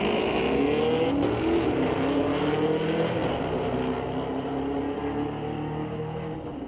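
An older new-generation Chevrolet Camaro and a new Dodge drag race at a street-legal drag night at Mission Raceway Park, engines roaring loud and steady throughout with a sustained, slowly fading rumble and no voices.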